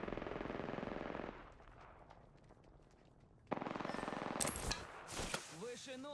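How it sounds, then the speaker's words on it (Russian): Rapid automatic gunfire in Apex Legends rattles in a dense burst, drops to quieter distant shots, then surges back loud with more firing and game sound effects. "враги стреляют по мне"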